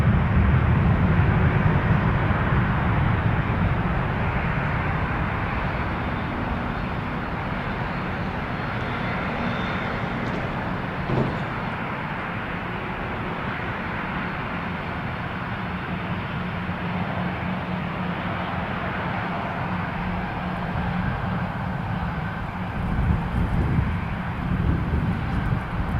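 A FedEx plane taking off from runway 23 at Toronto Pearson airport produces a sustained, heavy jet engine roar that holds steady throughout, loudest at the start, with faint wind buffeting on the microphone and no speech.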